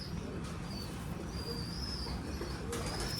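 Racing pigeons coo in a loft, a low steady murmur of several birds layered close together, with faint higher chirps and soft wing sounds now and then throughout.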